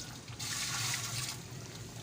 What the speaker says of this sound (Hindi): पानी शामिल करेंगे इसके अंदर 1 टिन